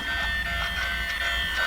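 A battery-powered thrift store toy train running slowly, giving a steady close electric motor whine with faint rhythmic clicking of wheels over the track.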